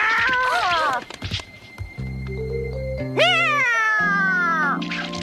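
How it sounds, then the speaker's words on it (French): Animated cartoon cat meowing, a rising then falling cry at the start and a longer drawn-out meow later, set against a plucked musical score with a soft thump between. "Qu'est-ce qu'il fait là, ce chat?"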